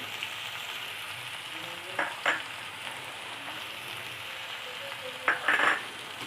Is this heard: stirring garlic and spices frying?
yes